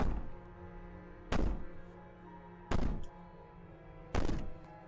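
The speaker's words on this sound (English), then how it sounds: "Maybe the banging and wailing will stop if you just don't pay attention to it." Three heavy bangs on a wall in the video game Slay The Princess, evenly spaced about a second and a half apart. Each is a loud, booming thud with a short decay over a low, steady ambient hum.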